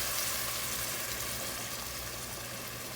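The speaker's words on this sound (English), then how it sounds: "This has been sauteing and they're a little translucent now" Vegetables sauté in a pan with a steady, soft hiss and sizzle that stays even and fairly quiet throughout, with no talking.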